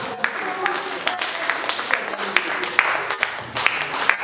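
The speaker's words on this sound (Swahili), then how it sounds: "Pigie Bwana Yesu makofi." Church congregation applauding in praise at a Swahili gospel service, a steady patter of many hands with sharper claps breaking through, mixed with voices and a fairly close, busy crowd feel throughout.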